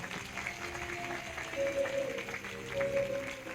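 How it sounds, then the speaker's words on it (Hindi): A church congregation claps in thanks during a prayer service, a soft, fairly distant patter of applause with faint voices and a humming tone beneath, ending in a sharp thump. "अब ताली बजाकर धन्यवाद दें"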